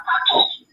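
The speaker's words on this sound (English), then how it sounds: "that was my phone" A mobile phone gives a brief electronic alert of well under a second, close and fairly loud, overlapping voices at a casual New Year's Eve gathering.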